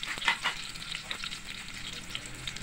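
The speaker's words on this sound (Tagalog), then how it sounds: "So, hayaan nyo lang mag-isa ang bawang at sibuyas." Garlic and onion fry in a pan for a pork lechon paksiw dish, giving a steady, close crackling sizzle with small pops and bursts throughout and no talking.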